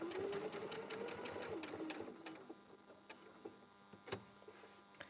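Sewing machine stitching a placket, a rapid whirring motor run that slows and winds down after a couple of seconds, followed by scattered light clicks and taps nearby.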